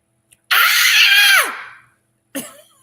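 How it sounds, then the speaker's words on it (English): A woman lets out one loud, raw scream that holds for about a second and trails off, then a shorter sharp cry follows after a pause, both close and alone in an otherwise silent space. "everybody in this freaking neighborhood is going to hear me scream"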